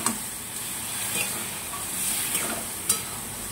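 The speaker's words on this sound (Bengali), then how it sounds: "ভেজে রাখা পটলটা দিয়ে আবার একটু কষিয়ে নেব।" Fried pointed gourd sautéed in spice paste with a splash of water sizzles and hisses steadily in the pan, with soft stirring scrapes and a couple of brief louder clatters.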